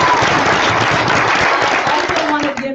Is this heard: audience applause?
yes